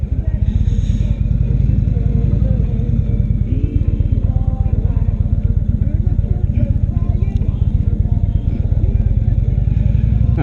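A 2016 Indian Chieftain motorcycle pulls away with a loud, close, steady engine rumble and rapid firing pulses that hold for the whole stretch, with some clatter mixed in.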